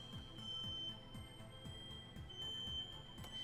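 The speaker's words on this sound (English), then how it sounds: "my mom always sets off the fire alarm when she cooks chicken" A fire alarm goes off indoors while chicken cooks, a steady high electronic tone held throughout at a distance, faint under a low, repeating rumbling background.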